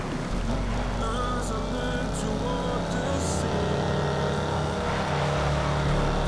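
A Shelby Cobra 427 roars in a Need for Speed: Most Wanted (2012) sprint race, its engine droning loud and continuous with shifting pitch and occasional impacts over the road noise.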